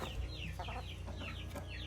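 A rooster clucks in a run of soft, quick calls, close by, with a low steady hum underneath and no talking.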